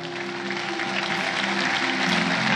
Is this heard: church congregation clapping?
yes